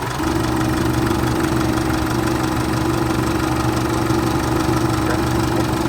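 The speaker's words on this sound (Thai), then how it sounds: "เครื่องเงียบนะครับเครื่องเงียบ" A Chevrolet pickup truck engine idles continuously with a low, even rumble and a slight mechanical knock, close by, with no talking.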